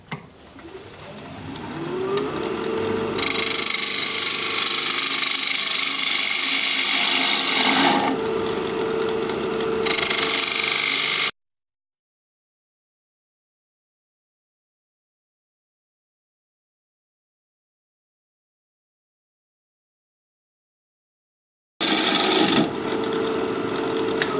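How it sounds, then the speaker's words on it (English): Wood bowl turned on a lathe at 1500 RPM with a 5/8 inch bowl gouge, the workpiece showing some cracks: a loud, steady rasping cut with a shifting tone that runs about eleven seconds, breaks into silence, then resumes briefly. "we're going to be turning at 1500 RPM with the 5 8 inch bowl gouge"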